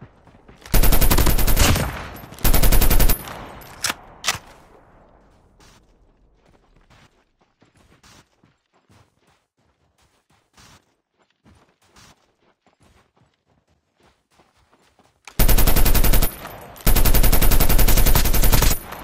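Two loud bursts of rapid automatic gunfire from Call of Duty Mobile open the scene, then scattered faint clicks and handling noises fill a long quiet stretch before two more sustained, close machine-gun bursts erupt at the end.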